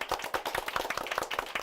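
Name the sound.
audience applause for the MC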